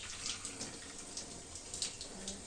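A shower runs in a birthing room at Hôpital Saint-Boniface, giving a steady, close hiss of falling water with small splashy flickers throughout and no voices.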